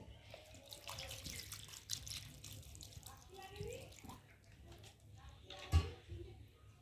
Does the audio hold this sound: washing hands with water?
yes